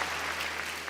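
An interview audience applauds, a brief dense patter of many hands clapping, steady and moderately loud.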